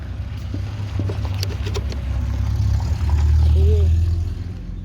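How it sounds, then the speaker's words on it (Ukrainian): Neighbours' car starts at dawn and pulls away to go to the market: a low, steady engine rumble that swells louder toward the end, heard from a short distance with light background noise. "Завели машину, їдуть."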